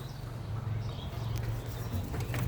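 Pigeons in a loft cooing, low soft repeated coos close by, faint and continuous against quiet room noise.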